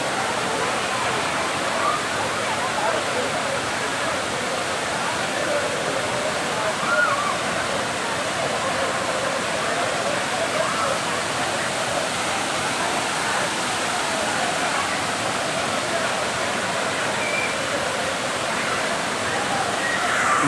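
A loud, constant roar of Panchalinga waterfall, rushing water pouring steadily with no breaks throughout.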